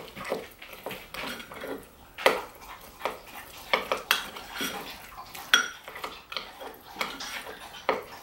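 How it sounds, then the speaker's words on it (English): Sweet potato casserole ingredients are stirred together in a bowl with a utensil, producing a rhythmic series of close clinks, taps and scrapes against the bowl, repeating roughly every second with no talking over it. "You're just going to mix these 4 ingredients together until they are combined."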